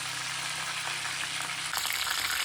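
Curry leaves crackle in hot oil for avalakki poha tempering, a steady close sizzle with a hum underneath that grows denser and louder for the last second.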